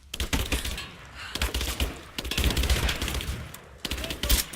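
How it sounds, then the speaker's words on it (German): Gunfire in the action game Rise of the Tomb Raider during a firefight in a cathedral: loud bursts of rapid shots and volleys come in several waves separated by short lulls, close and sharp. "Mann, wo schießen denn die alle?"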